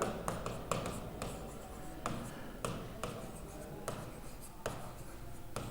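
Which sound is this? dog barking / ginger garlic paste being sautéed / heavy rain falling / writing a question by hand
writing a question by hand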